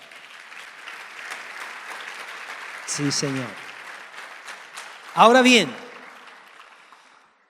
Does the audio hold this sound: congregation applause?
yes